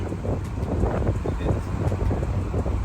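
Steady wind buffeting the microphone beside a 1979 Fiat 124 Sport Spider 2000, a continuous low rumbling roar with gusty fluctuations throughout, no voices.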